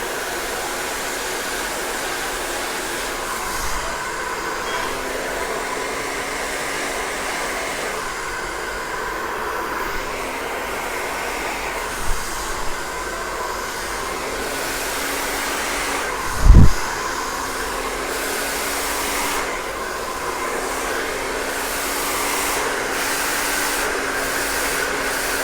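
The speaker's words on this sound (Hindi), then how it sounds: "फिर इन्हें सभी ओर से ड्रायर करूँगा।" A hair dryer blows on hair in a salon with a steady, loud whooshing roar lasting throughout, broken only by a brief low thump midway, with no talking.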